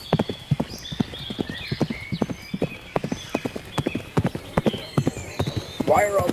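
Horse hooves clip-clop in a steady, rhythmic series of sharp, close hits in the Napoleonic-era battle game Scourge of War: Waterloo, with a faint whinny near the end.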